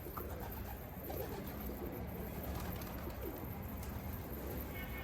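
Dolapçı pigeons coo softly and steadily, with brief wing flutters, against a constant outdoor background hum; no talking.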